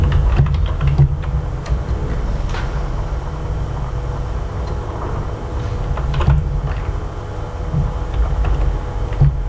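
Rapid, steady typing on a computer keyboard while entering text in Office Excel, a continuous run of close, crisp keystrokes with no talk.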